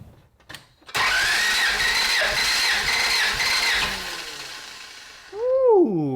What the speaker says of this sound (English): I'm gonna try to turn the motor